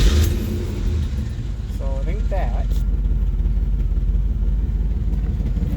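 A truck engine with a throttle body injection problem runs at a steady low rumble close by, with someone briefly talking over it.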